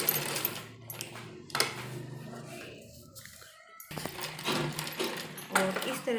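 Sewing machine running in short bursts while stitching fabric cut from a saree to make a salwar suit, close and rattling, stopping and starting, with someone talking throughout.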